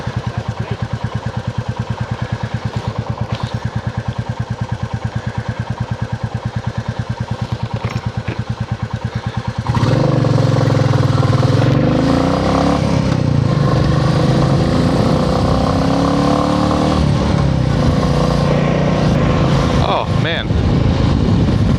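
A motorcycle engine idles with a rapid, steady thumping beat, then revs up loudly and runs at higher speed, close by, with a person talking over it at times.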